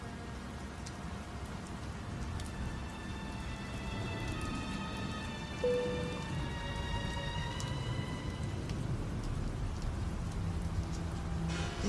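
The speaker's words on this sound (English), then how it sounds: "Started to rain." Steady rain patters continuously on a surface, a dense even hiss with faint high chirps of birds or insects threading through it.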